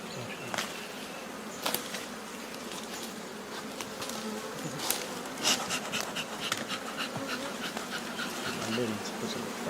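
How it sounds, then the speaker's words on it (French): Angry bees swarming at a hive in Kongo Central, a dense continuous buzzing close by with sharp individual bees zipping past, under faint background talk. "il y a des abeilles qui sont vraiment très furieuses"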